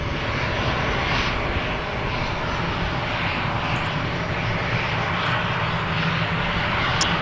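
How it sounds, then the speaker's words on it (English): 17-year-old EasyJet Airbus A319 departing Amsterdam Schiphol for London Luton: a loud, sustained engine roar with dense low rumble, steady throughout, no voices. "EasyJet flight 22512 going to London Luton, Airbus A319, 17 years old"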